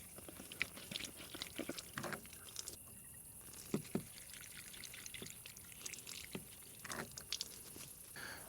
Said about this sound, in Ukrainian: Треба воду набрати, відкрили.